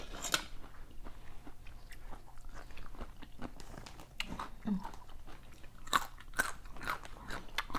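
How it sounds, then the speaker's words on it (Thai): Crunchy cucumber eaten with Vietnamese pork sausage and chili, heard as quiet, close bites and moist chewing crunches repeating irregularly against a faint low background hum. "จะกินแตงกับหมูยอ"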